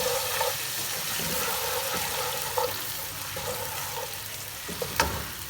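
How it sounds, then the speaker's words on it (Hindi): Garlic ginger paste sautéing in hot oil in a pan before beef keema is added, a steady, dense sizzle with occasional soft clinks and stirs, close and constant throughout without any talk. "हल्का सा सौते करेंगे हम ऑयल में।"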